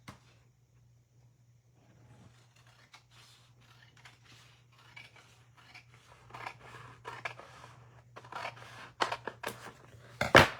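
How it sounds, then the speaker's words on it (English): Scissors cutting through material on a work surface, a series of crisp snips that start sparse and grow louder and quicker toward the end, over a steady low electrical hum. "And I'm going to cut this."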